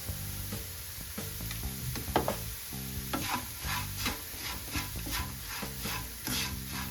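Lentils and potatoes fry with chili powder and salt while a spoon stirs and scrapes through them, a continuous close sizzle broken by repeated stirring scrapes, with no talking.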